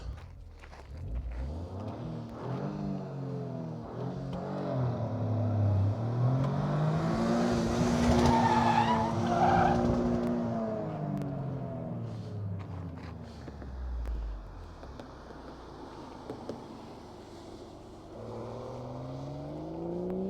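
Toyota GR Corolla swinging through hard right and left turns, its engine rising and falling in pitch as it nears, peaks loudly and pulls away, with whining tones sweeping across the turns.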